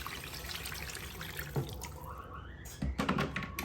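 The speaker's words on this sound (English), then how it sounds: "I'm just gonna add water to cook it." Water runs into a cooking pot holding fish for ogbono soup, a faint trickling pour with small splashes and clinks partway through.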